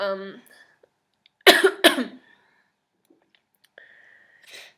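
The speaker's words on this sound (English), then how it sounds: "I'm gonna cough again." A voice speaks briefly, then two sharp, loud coughs follow in quick succession, close up, before a short quiet stretch.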